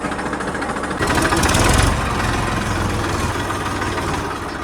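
A tractor engine runs steadily at a farm, a loud low rumbling chug with a brief surge in revving around the second second before it settles back to an even idle-like throb, with no talking over it.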